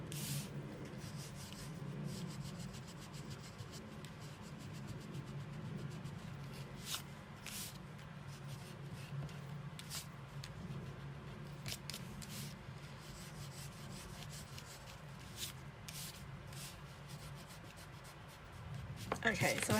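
Pencil marks rubbed out on pattern paper for a box in a card, with a steady dry scrubbing and shuffling texture running close and continuous, broken by small taps, and a louder rustle at the very end.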